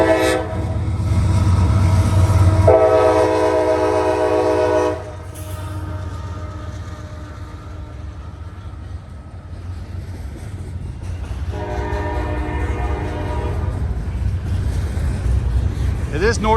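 A northbound CSX freight train passes with a loud, sustained horn blast near the start, then a long steady rumble of rolling cars, with a second horn call later on.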